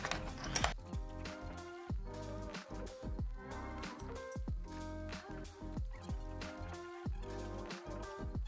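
Screws being removed from the underside of a Lenovo Legion 5 Pro laptop, heard as steady close mechanical clicking and ticking, evenly paced throughout, quiet but clear with no talking.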